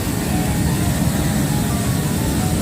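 An automatic fabric cutting machine runs in a garment factory in Vietnam, giving off a loud, steady mechanical drone and whir with no break and no talk.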